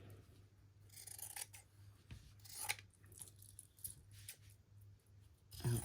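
Quiet, close snips of scissors cutting material for a junk journal cover, a handful of short crisp cuts spaced irregularly over a low background hum, with no talking.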